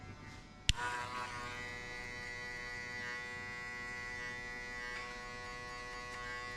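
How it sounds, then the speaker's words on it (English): Electric hair clipper buzzing steadily during a buzz cut, switched on with a sharp click and then holding a constant, close-up electric hum for several seconds with no talking. "And also flick the clipper out."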